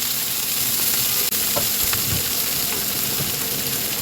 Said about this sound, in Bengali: তেলটা গরম হয়ে গেছে এখন মাছগুলো আমি দিয়ে দিচ্ছি মাছ দিয়ে দিলাম এক সাইডে আর আলুগুলো একটু ভাজা ভাজা হওয়ার জন্য আমি এই এক সাইডে আলুগুলোও দিয়ে দিলাম